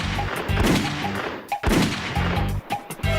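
Repeated gunshots in a film's shooting-practice scene, loud close bursts of rapid fire broken by brief pauses, with no talk.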